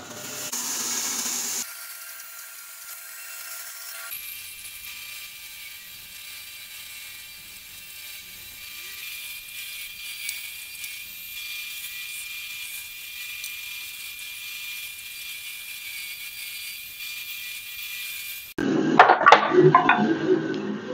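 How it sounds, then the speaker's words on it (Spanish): A band saw and a jigsaw cut through wood blanks for carved slingshots, a sustained mechanical buzzing whine that runs steadily for most of the stretch, ending in a rougher burst of rattling. "Con la sierra de cinta vamos a cortar todo el exterior. Y el arco vamos a cortar con la caladora"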